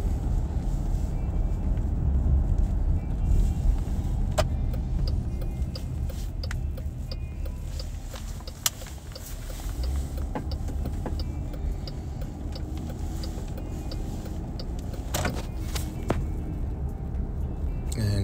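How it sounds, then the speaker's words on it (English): A car driving slowly along residential roads, heard from inside as a steady low road and engine hum with occasional small ticks and clicks, no talking. "We can drive a little faster on the roads we've been down."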